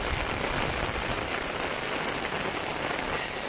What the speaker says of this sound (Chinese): 江西新雨下这么大，这几天老是有大雨